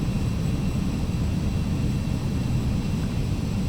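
Steady broadband jet cabin drone of a Carenado Citation CJ2 cruising in the Prepar3D flight simulator, continuous and even in loudness with no breaks or voices.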